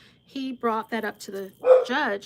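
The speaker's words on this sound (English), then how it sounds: "Excuse me, that's my dog." A dog barks indoors, a few short yips mixed in with someone talking steadily over it.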